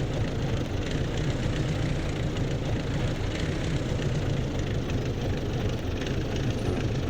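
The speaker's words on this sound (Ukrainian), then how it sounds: "І зараз будемо працювати на нашому тракторі." A tractor engine in Farming Simulator 17 drones in a steady, unbroken low hum while the machine works a field for sowing wheat, constant and moderately loud with no talk.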